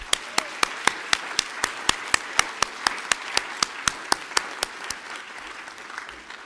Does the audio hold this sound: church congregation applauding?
yes